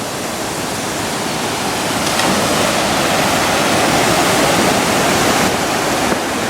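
The river at Stainforth Force waterfall roars in a loud, steady, close rush of white water that never lets up, with no voices over it.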